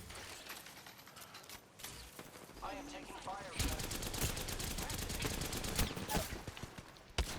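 Video game gunfire in a shooter match, with rapid automatic bursts that build into dense, steady firing in the second half, mixed with game sounds and some voices.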